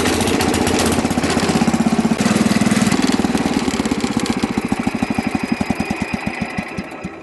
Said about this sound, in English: the wheel horse is running just fine